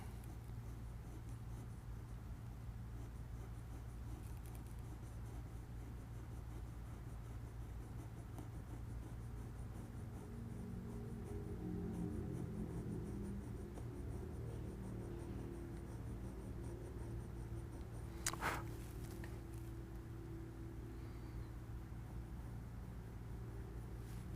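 A graphite pencil traces a slow hand-lettering curve across paper, a soft, continuous scratch over a steady low hum that grows slightly stronger midway.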